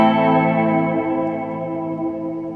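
Electric guitar chords played through a Strymon Volante echo delay set for early surf tones, a sustained wash of ringing harmonics with repeating echoes and a spring reverb tail, steady and fairly loud throughout.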